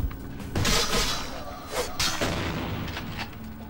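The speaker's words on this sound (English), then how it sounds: "Someone just fucking shot me." Gunfire in the video game Vampire The Masquerade Bloodlines: a loud, dense burst of shots and impacts with crashing, shattering noise, close and continuous with no talking.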